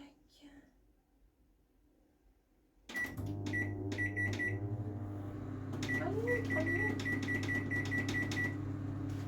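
A microwave oven heating potatoes starts up with a few beeps, then hums steadily with a low drone while someone speaks quietly nearby.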